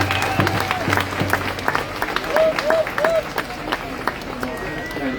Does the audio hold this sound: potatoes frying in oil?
no